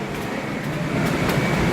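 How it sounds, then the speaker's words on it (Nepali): A driverless metro train arriving at a station in Korea, a steady low rumble that grows slightly louder as it draws near, with faint high squeaks over the top. "यो आयो हाम्रो बिना ड्राइभरको रेल"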